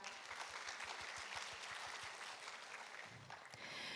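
Audience applause fills the hall at the opening ceremony of an international carbon neutrality conference, a steady dense clapping that holds for the whole stretch with a brief dip near the end.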